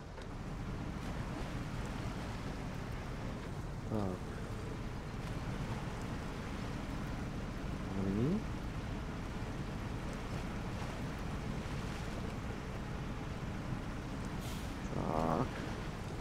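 Heavy truck splashing through deep water in the SnowRunner video game on an Alaska map, a steady broad wash of water and engine rumble throughout, with a few brief tonal beeps and a short word spoken.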